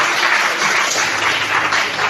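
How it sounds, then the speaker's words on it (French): Church congregation applauding the Lord together, a steady, dense wash of clapping that stays loud and even throughout with no pauses. "Est-ce qu'on peut acclamer le Seigneur?"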